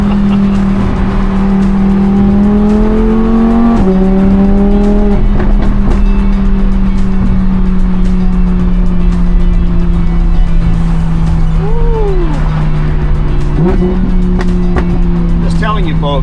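A Ram TRX with a Hemi engine revs loudly and steadily close by, its tone climbing in stepped pulls and sagging between them, while someone speaks over it.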